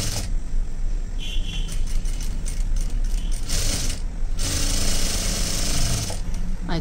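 A sewing machine stitches folded blouse fabric in a steady, rapid mechanical chatter that runs loud and continuous from start to finish, with no talking.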